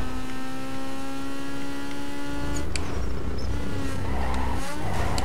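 Honda Civic sliding sideways in Need for Speed Underground 2, a steady engine drone with tonal whine giving way to rough, broadband tyre skid noise that grows louder and scrubs on for several seconds, no talk.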